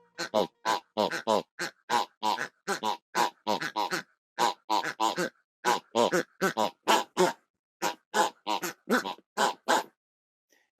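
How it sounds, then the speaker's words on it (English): Squeezy pig toys squeezed in a fast, steady rhythm, each squeeze giving a loud, close, nasal oink-like grunting squeak, dozens in a row with only brief gaps. "I like to play the squeezy pigs."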